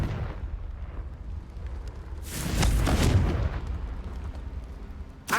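A Confringo spell blast in the Hogwarts Legacy video game goes off as a single loud explosive burst midway, with a low rumbling tail fading over a quieter background.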